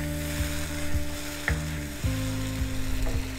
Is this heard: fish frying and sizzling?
yes